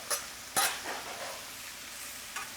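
Peppers, onions and mushrooms are stirred in a pan, with a low sizzle under a few sharp utensil scrapes and clinks spaced irregularly, close and moderately quiet.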